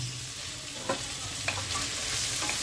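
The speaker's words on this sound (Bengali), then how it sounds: "তেলে ভেজে নিচ্ছি সব সবজিগুলো।" Chopped capsicum and green chili fry in oil in a pan, a soft continuous sizzle broken by a few scraping stirs of a spoon, with no talking.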